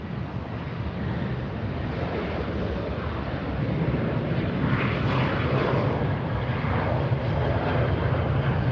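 A Southwest Airlines jet airliner passes at LAX, its loud, broad engine roar swelling midway and holding strong, with some wind rumbling on the microphone.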